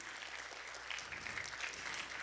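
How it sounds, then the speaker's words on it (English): Audience applause at a music concert, a faint, distant wash of steady clapping that continues evenly throughout. "Let's give them a big round of applause one more time."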